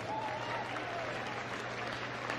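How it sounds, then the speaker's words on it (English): Steady, dense applause from the audience at the Crufts 2014 dog show hound group, for the Beagle, fills the whole moment, a continuous wash of clapping with no pauses. "A big round of applause for the Beagle."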